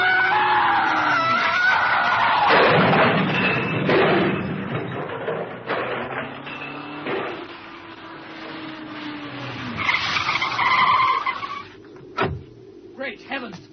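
Radio-drama sound effects of a car skidding off the road and going over an edge: engine roar and tire screech mixed with shouting voices, then a sharp crash near the end.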